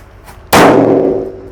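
A Disco Happy Flower Lap Lap Thor firecracker goes off indoors with one sudden loud blast, then a long booming echo that rings around the room and slowly fades.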